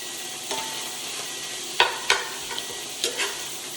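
Beef being stirred and broken up with a metal spoon in a cast iron pan, a low frying hiss underneath with several sharp scraping clinks spaced irregularly.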